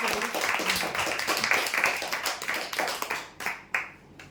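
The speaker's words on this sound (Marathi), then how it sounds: "जोरदार टाळ्या वाजवा." Audience applause at a lucky-draw prize announcement, a burst of clapping from many hands that swells and then thins into scattered claps before fading out.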